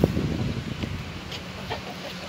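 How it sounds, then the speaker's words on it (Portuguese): A brooding hen clucks softly on a farm, low murmuring calls close by, with a breezy outdoor background and no speech. "Mostra lá a galinha, a galinha chocando."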